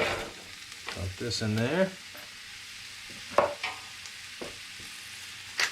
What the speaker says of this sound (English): Little sizzle already.